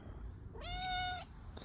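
A female cat lets out one clear, drawn-out meow at close range, rising then falling, with quiet room background before and after.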